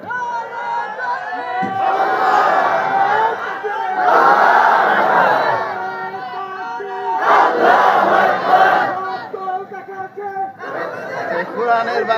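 A crowd at a religious gathering in Dhaka chanting slogans together in loud, swelling bursts of massed voices, with pauses of babble between the chants and a lone voice leading at times.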